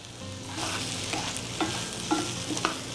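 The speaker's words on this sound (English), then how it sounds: "Now I'll toss them again. Make sure that all the seasoning is distributed evenly on all the potatoes." Seasoned potatoes with onions and bacon sizzle steadily in a skillet, with a few soft scraping stirs and light pops on top of the constant fry.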